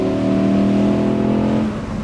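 An Audi R8 V10 Performance Spyder's engine revs loud and close to around 5,000–5,500 rpm, holding a steady harmonic howl for about a second and a half before it eases off and the note drops away.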